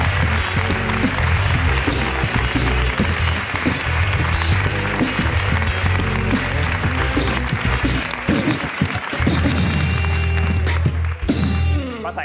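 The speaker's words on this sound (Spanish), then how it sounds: "un aplauso para Ingrid García Johnson." A late-night television studio audience breaks into loud, sustained applause and cheering for an arriving guest, steady throughout with music or crowd noise underneath and a short dip near the end.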